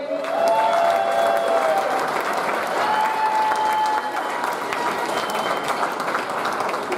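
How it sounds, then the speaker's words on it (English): Comedy show audience applauding a comedian: a loud, dense wave of clapping that fills the room and holds steady for several seconds, with faint cheers mixed in. "Give yourself a round of applause for coming out of the house."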